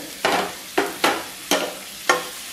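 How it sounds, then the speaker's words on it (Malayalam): Medium-sized chopped onions sizzle in hot oil for mutter paneer, stirred in a pan with five sharp scraping strokes spaced unevenly over a steady low frying hiss. "സവോള ഇതിലേക്ക് ചേർത്ത് കൊടുക്കാം മീഡിയം സൈസ് സവോളയാണ് ഞാനിവിടെ എടുത്തിട്ടുള്ളത്"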